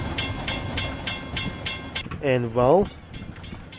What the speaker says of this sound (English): The train has started to climb uphill.